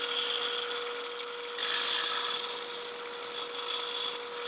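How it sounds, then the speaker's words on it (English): A power drill bores back down through the center of a maple microphone stand part with a 5/16 inch bit, a steady close whirring that grows louder partway through and runs continuously. "I've switched this out for a 5/16 inch bit, and I'm going to need to drill back down through the center again"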